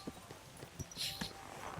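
Horse hooves clip-clop faintly in the video game Kingdom Come: Deliverance II, a few soft irregular steps on the ground at a distance.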